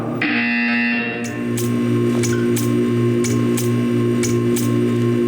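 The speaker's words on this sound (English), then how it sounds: "You will hear a buzzer." A loud, steady electronic buzzer from the video game Portal 2 drones on, overlaid with regular mechanical ticking clicks that repeat through the whole stretch.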